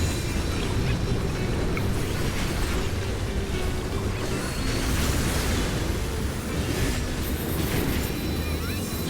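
Waves and wind effect from a Final Fantasy XIV raid, a thick, sustained rushing roar with churning low rumble and airy hiss, loud and unbroken from start to finish.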